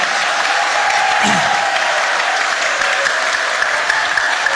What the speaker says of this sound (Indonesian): kita bisa beri aplaus untuk Mas Hilkia Bapak Ibu ya